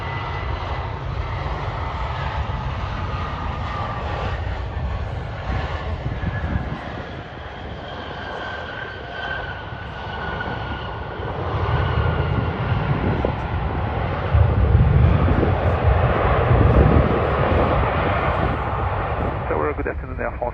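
A Delta airliner lands on runway 12 right at Minneapolis on a spring afternoon, heard as a steady, broad jet roar that swells slightly toward the end, with faint voices in the background.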